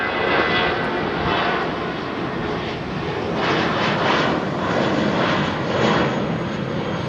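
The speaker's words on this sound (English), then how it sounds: "here comes our first American departure of the evening." An American Airlines jet departing London Heathrow in the evening, a broad sustained engine roar that swells and eases in slow waves, fairly loud and steady, with no voices.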